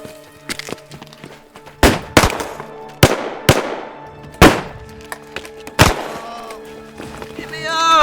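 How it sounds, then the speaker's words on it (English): Rifles and shotguns fire in a Western-movie battle: a string of sharp, loud, close gunshots at irregular intervals, some echoing briefly, with a few fainter pops between them. "Open fire!"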